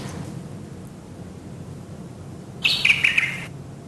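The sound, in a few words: bird chirping sound effect added to an animation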